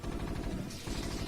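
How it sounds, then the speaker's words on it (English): Explosions in a StarCraft: Brood War match come as a dense, rapid burst of blasts and gunfire-like crackle, loud and continuous through the short moment. "Explosions!"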